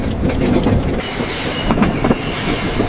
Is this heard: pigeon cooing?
no